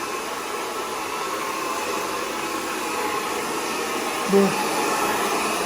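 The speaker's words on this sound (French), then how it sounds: "voilà, un petit séchage" A hair dryer blows steadily on a mannequin head's fringe during a haircut, a continuous broadband whoosh filling the whole stretch, with a brief spoken word near the end.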